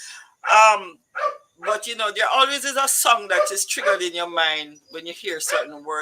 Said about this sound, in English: sorry about the dog. My husband just came home and they're all very excited.